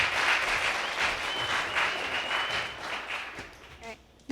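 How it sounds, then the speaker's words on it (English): Applause from a poetry slam audience welcoming the next poet, a sustained round of clapping with scattered cheers that gradually thins out, ending as a voice starts up near the close. "You can clap, come on."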